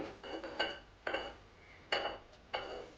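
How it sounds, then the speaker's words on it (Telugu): Metal pan set down on a kitchen stove for cucumber chutney: four sharp clanks and scrapes of cookware, close and moderately loud, with no talk. "స్టవ్ పైన ప్యాన్ పెట్టుకోవాలి"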